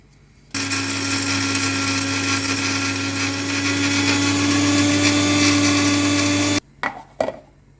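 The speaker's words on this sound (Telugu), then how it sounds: "కొద్దిగా కాజు కొద్దిగా బాదాం మిక్సీ పౌడర్ చేసి పెట్టుకోవాలి మనం మిక్సీ పట్టేసుకుందాం" A mixer grinder powders cashews and almonds, its loud, steady motor whine running for about six seconds before cutting off, followed by a few brief knocks and rattles.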